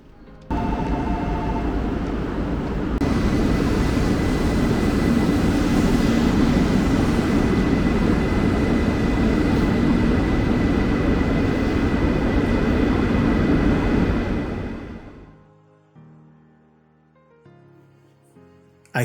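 A JR Shinkansen bullet train passing at Omiya station, a loud sustained rushing roar that holds for about twelve seconds, then fades fast to quiet station tones and chimes.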